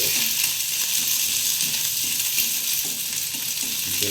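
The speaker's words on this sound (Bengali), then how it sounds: "পেঁয়াজ দিয়ে দিয়েছি। আমার বউ পেঁয়াজে দিচ্ছে" Onions and potatoes frying in a pan as onion is added, a loud, steady, close sizzle with light stirring scrapes and no voices.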